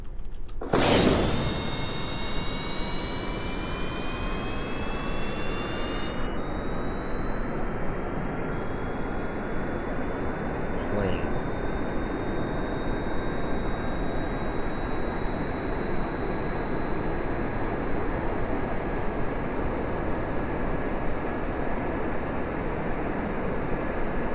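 A video game airplane engine gives a steady, loud jet roar with rising whine tones that hold for the whole stretch, close and constant with no talk.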